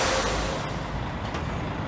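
A long-distance coach at a bus depot gives a loud hissing burst of air from its brakes, a broad sustained rush over a running engine, with a couple of short sharper releases.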